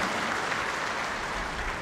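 A crowd at a BJP convention in Chandrapur applauds in a steady, dense roar of clapping that fills the hall without pause.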